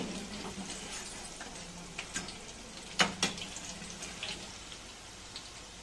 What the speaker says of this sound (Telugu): గోల్డ్ కలర్ వచ్చేంత వరకు వేయించుకోవాలి